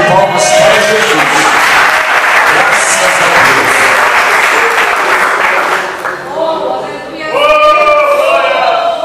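A church congregation claps for Jesus in sustained, dense applause that fills the room, with voices singing and calling over it; the clapping dips briefly and then swells again.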